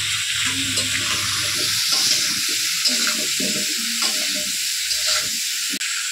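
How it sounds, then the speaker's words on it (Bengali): Potato pieces coated with salt and turmeric fry in oil with a close, continuous sizzle, while soft, intermittent stirring knocks sound underneath. "আলুটা লাল লাল করে ভেজে নেবো।"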